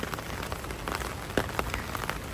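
Steady rain patters inside a video game, a dense hiss of droplets with a few sharper splashes standing out, continuous and moderately close with no voices.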